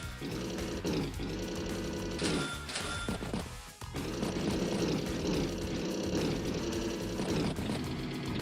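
Continuous droning engine and rotor hum of a battlecopter in the Advance Wars video game, loud and steady with a brief crash-like burst midway and a short dip before the drone resumes.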